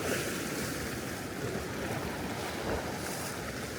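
Ocean waves in the deep blue sea off the cliffs of Itbayat, Batanes, a continuous dense rush of surf mixed with wind buffeting the microphone, loud and unbroken throughout.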